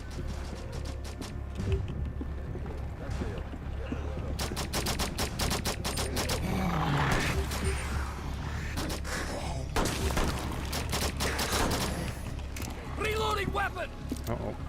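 Pistol gunfire in a video game, a run of sharp clustered shots in bursts near the start, midway and toward the end, heard over a steady game background with mechanical clicks.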